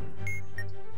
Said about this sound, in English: that's the alarm clock I told you about